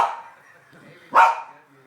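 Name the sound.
puppies barking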